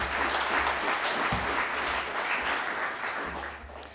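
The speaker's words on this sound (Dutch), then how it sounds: "Graag uw applaus." Audience applause greets the Dutch education minister at a university debate, a steady dense clapping that fills the room from start to finish and fades slightly near the end.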